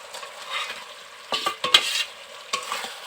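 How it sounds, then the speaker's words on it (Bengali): Fried cauliflower stirred into spice masala in a pan, several sharp scraping strokes of a spatula over a soft sizzle, in short bursts. "এখন এর মধ্যে ভেজে রাখা ফুলকপিগুলোকে দিয়ে দিতে হবে"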